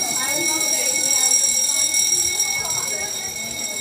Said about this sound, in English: sometime this week there would be another fire alarm going off?